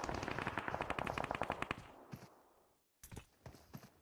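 Loud rapid automatic gunfire sprays in the video game PUBG Mobile, a dense burst of shots for about two seconds, then fading before a few scattered sharp shots follow.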